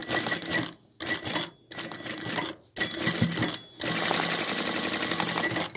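A sewing machine stitches the shoulder seam of a down jacket in several short bursts separated by brief pauses, with a steady fast mechanical chatter close by.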